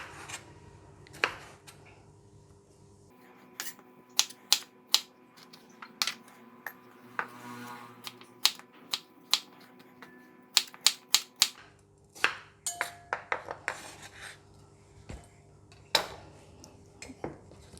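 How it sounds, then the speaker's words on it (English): A knife cutting bitter gourd lengthwise on a board, with scattered sharp taps and knocks coming irregularly at close range throughout. "I'm going to cut it into lengthwise, like this."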